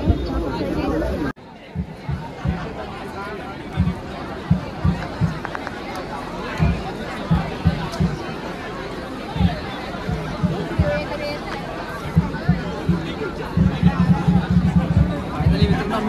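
A dense crowd packs Marine Drive in Mumbai for Team India's T20 World Cup victory parade, with a steady hubbub of many voices, scattered thumps and loud bursts all the way through, and people talking nearby.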